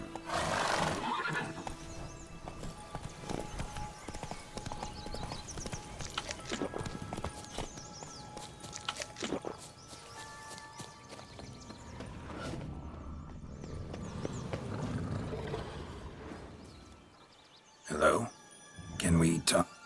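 A horse in the Witcher video game neighs loudly at the start, then clip-clops at a steady gallop with creaks of tack, and a voice speaks over it as a few final hoof beats sound near the end.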